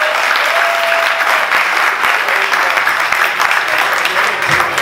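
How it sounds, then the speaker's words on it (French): A concert crowd honoring Congolese musicians bursts into loud, sustained applause, a thick wash of clapping that holds steady throughout with faint crowd noise underneath. "applaudissement, s'il vous plaît."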